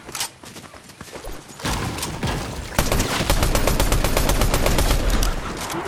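Rapid, loud bursts of auto-shotgun fire from the Fortnite video game, a dense run of sharp repeated shots that builds and keeps going steadily to the end.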